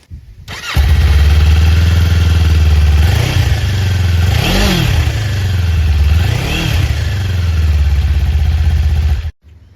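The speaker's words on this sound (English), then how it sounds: "Let's see how the stock exhaust sounds right now." A Kawasaki Ninja 500 with its stock exhaust starts up and idles with a deep, steady rumble, then is blipped through three quick revs that rise and fall before the engine shuts off abruptly.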